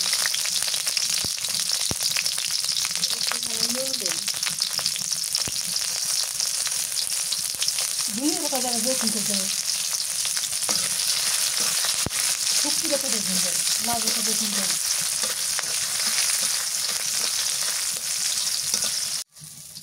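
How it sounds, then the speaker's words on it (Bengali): Chilies and garlic fry in mustard oil in a home kitchen, a steady bright sizzle running throughout while someone talks over it. "একটুখানি সরষের তেল দিলাম মরিচ ভেজে নিই"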